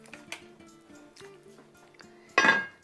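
A lid set onto a pot of braised pork ribs, a single clear metallic clink near the end after a few faint taps and kitchen clatter.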